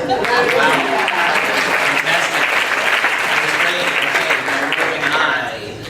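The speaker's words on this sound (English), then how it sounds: "Round of applause" A room full of people applauds a team after a panel-style session, dense steady clapping that holds loud for about six seconds before tapering, with voices mixed underneath.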